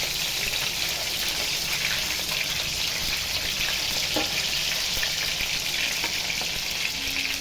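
Chicken pieces sizzle steadily on a barbecue over a medium flame, browned on one side and turned over, a loud continuous crackling hiss with faint scrapes and ticks throughout.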